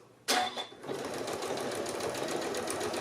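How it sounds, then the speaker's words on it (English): Sewing machine stitching a seam on fabric for a three-layer pleated mask, starting abruptly and then running in a steady rapid whirring rhythm, close and clear, with no talking. "you're just going to stitch this down at 3/8 of an inch and just shy of 3/8"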